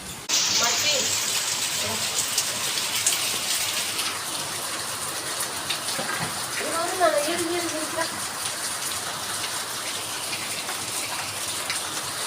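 Steady rain falls outdoors in a dense, continuous hiss of drops on surfaces, loud and close, with a voice speaking briefly over it.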